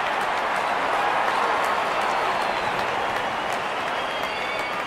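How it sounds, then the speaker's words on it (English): Crowd cheering fills a cricket video game stadium in RC22 as openers walk out, a dense continuous roar of massed voices with no distinct breaks. "Openers walking in and the crowd cheering in anticipation."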